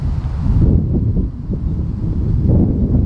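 Steady wind blowing across an outdoor golf course, a loud, low continuous rumble buffeting the microphone for several seconds with no other sounds.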